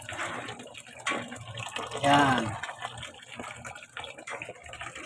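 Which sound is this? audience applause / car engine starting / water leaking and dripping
water leaking and dripping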